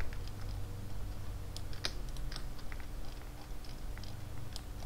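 Soft clicking of computer keyboard keys being pressed, faint and sparse over a low steady hum, with one sharper tap standing out.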